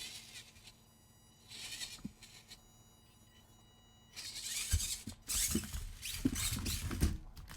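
A Racent 1/24-scale RC crawler Jeep drives with its wheels spinning, giving a whiny, buzzing motor and gear sound that rises and falls in several short bursts, growing louder and busier toward the end.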